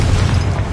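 A Confringo blasting spell goes off in Hogwarts Legacy, a single short, loud, low boom with a rumbling burst that fills the whole moment.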